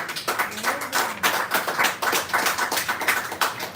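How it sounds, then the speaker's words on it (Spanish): A church congregation claps in a dense, steady patter of many hands, fairly loud and close, running the whole time without talk. "¿Cuántos aplauden el nombre del bendito sea?"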